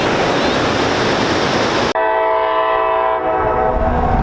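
A passing train's horn sounds loud and close, with rumbling rail noise and wind beneath it, on a walk through Milford; steady blasts with a sharp cutoff in noise partway.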